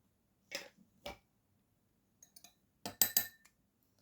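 A spoon clinks against a glass or cup while a teaspoon of dark coffee is added, a few sharp, close taps spaced out, then a quick cluster of clinks in an otherwise quiet room.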